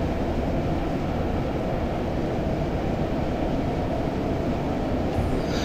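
In the Train Simulator 2015 video game, a Class 101 diesel multiple unit accelerates on the Bishop Auckland to Wearhead route, giving a steady, dense engine and rail drone that stays even throughout with no voices.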